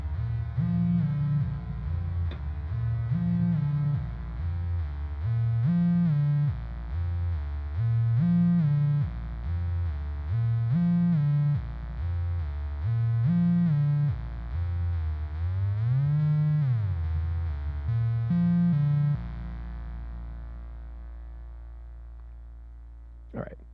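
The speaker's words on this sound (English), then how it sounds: "So we're just going to set the arpeggiator to latching here, as we explore sort of the routing." A Make Noise 0-Coast synthesizer plays a latched arpeggio with reverb, a repeating pattern of buzzy, distorted low notes cycling in steady rhythm, with a pitch sweep near the end before the tone decays into a reverb tail.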